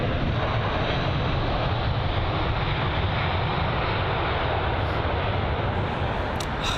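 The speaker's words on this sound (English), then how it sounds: "That's the Aer Lingus A320 with the older generation of the livery." Broadband jet roar of an Aer Lingus Airbus A320 airliner in older livery passing at London Heathrow, a loud steady rush that holds level throughout with no voices.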